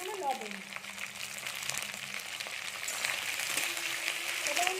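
Onion and capsicum frying in a pan, a continuous hissing sizzle with faint scraping and voices murmuring in the background.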